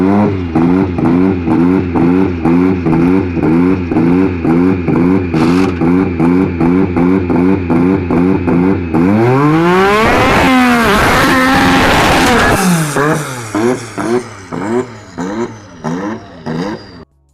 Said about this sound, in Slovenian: poslušajmo, kako je zvenel turbo motor Renault tedaj